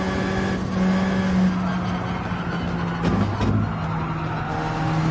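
A race car engine on the Fuji course in a racing video game holds a steady, loud drone with small shifts in pitch and a brief surge near the middle, with no talking.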